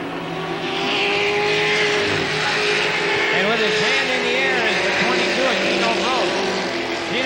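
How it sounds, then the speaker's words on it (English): Late model race cars at Capital Speedway in 1985, engines roaring and revving loudly as they pass in a continuous wailing drone, with pitch sweeps from passing cars, under an announcer's commentary. "Eddie Holmes in the 21 car, followed around by Randy Merriman"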